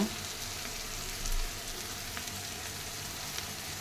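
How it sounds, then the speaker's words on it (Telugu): Vegetable curry cooking in a little oil in a pan gives off a steady, soft, even sizzle that continues throughout with no talking. "కూరని మగ్గే వరకు ఉంచండి అదిగోండి మగ్గిపోయింది కూర"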